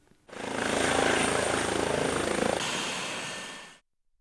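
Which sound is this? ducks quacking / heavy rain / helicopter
helicopter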